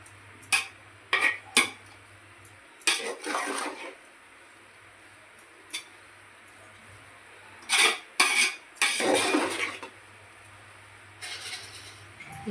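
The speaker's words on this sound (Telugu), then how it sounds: "మంచిగా కలుపుకోవాలి" Carrots and milk being stirred in a metal pot for carrot halwa, with a spoon scraping and clinking against the pot in irregular bursts over a low steady hum.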